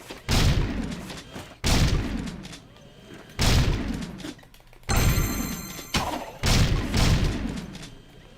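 Gunfire at a shooting range in the video game Jak II: six heavy, booming shots spaced about a second and a half apart, each with a long reverberant decay, close and loud.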